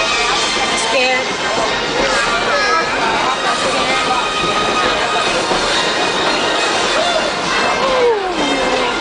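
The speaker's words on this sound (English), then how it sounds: "You see the train go by your house every day." A train rolls past a roadside house, its steady broadband rumble and metallic wheel squeals holding loud and close for the whole stretch, with faint voices mixed underneath.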